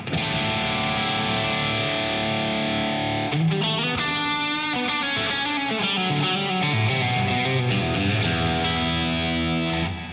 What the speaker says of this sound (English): Now let's say we want a little bit more reverb.